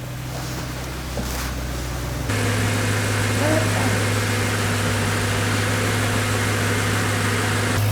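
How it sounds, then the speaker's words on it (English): A BMW E92 M3 idles after running for a while, a steady low engine hum with a constant tonal drone that thickens partway through. The engine runs alone without talk. "so we've had the car running for a little minute."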